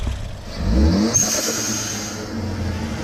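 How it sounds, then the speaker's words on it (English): A Ford Focus ST engine with an aftermarket intercooler revs up with a rising whine, then holds at a steady mid-level hum with some faint clatter. "Alright, start it up. Give it some gas."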